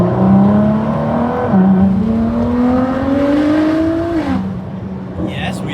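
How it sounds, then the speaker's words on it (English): A Ford GT engine pulling hard through the gears, with a loud rising drone, a gear change, then a climb ending in a drop-off with faint popping, heard from the cabin under occasional talk. "You get those backfire pops."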